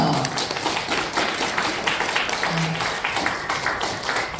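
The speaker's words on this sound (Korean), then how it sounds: "박수 좀 주세요" A small audience claps at an appointment-certificate ceremony of a knowledge forum in Seoul, with moderately loud, uneven hand claps continuing steadily throughout and no voices over them.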